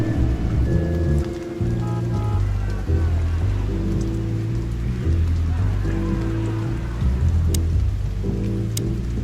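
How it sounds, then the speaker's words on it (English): Rain falling in the video game Chicken Police, a steady, loud wash of rainfall running throughout, overlaid by a low droning music bed, with no talking. "Well, it is raining."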